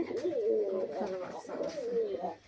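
Pigeon chick cooing, soft and throaty, in warbling phrases that rise and fall continuously, close by with some background noise.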